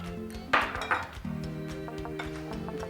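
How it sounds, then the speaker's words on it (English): Snails dropped into a cooking pot while making peppered snails, with a couple of clattering clinks and knocks of shells against the pot, followed by a steady humming tone beneath. "I'm going to put my snails. Into the pot they go"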